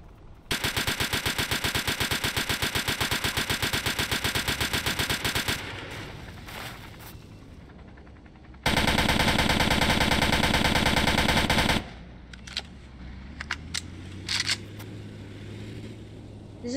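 A turret firing in the Roblox game Polybattle, a loud, evenly rapid automatic burst for several seconds, a pause with fainter sounds, then a second sustained burst, followed by scattered quieter clicks and rumble.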